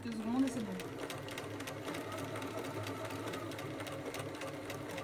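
A sewing machine fitted with presser foot 10 stitches lace onto fabric, a steady continuous mechanical whirr running throughout at close range.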